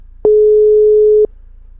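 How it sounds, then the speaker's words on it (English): A single steady electronic telephone tone lasting about one second, clean and loud on a quiet line, from a phone call ringing with no answer. "Phone's still ringing."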